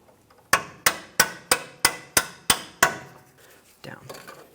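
Eight sharp metallic hammer blows, evenly spaced, driving a bolt out of the front lower control arm of a 2002–2005 Ford Explorer, loud and close, followed by quieter clinks and handling noises.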